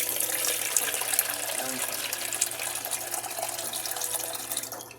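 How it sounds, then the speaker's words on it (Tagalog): Water runs steadily from a faucet for cleaning a motorcycle engine, a continuous hissing splash with no talking, close by and fairly loud. "Okay, lagyan natin ng tubig."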